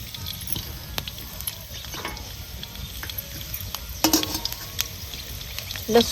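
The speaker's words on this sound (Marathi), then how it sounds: "त्याच तेलातही आपल्याला ह्यो लसूण भाजून घ्यायचं आहे" Garlic roasting in a pan of oil already used for frying green chillies, a constant close sizzle broken by irregular scraping and clattering stir strokes that get louder near the end.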